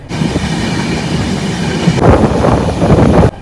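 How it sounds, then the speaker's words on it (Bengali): The 22642 Shalimar–Thiruvananthapuram Superfast Express rumbles loudly into Vizianagaram railway station, close and continuous, with rattling wheels and metallic clatter throughout. "ট্রেন ঢুকছে বিজয়নগরম রেলওয়ে স্টেশন"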